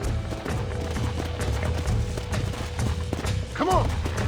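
Horse hooves gallop in a steady, rapid clip-clop in the Red Dead Redemption game, loud and continuous over ambient game sound, with a short whinny near the end and voices in the background.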